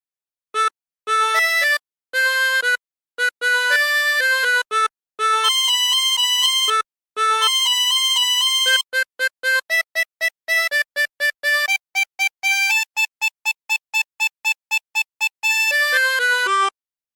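A chromatic harmonica plays a tune alone, in clear bright notes, first in longer phrases and then in quick staccato repeated notes, close and clean against silence.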